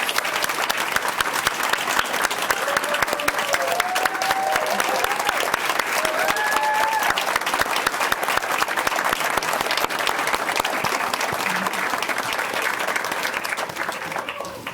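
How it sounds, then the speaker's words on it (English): An audience at a board of education meeting gives sustained applause for employee excellence award recipients, a thick, even clapping over the whole stretch with a few whistles and voices rising through it. "Please give a round of applause to our January 2020 Employee Excellence Award recipients."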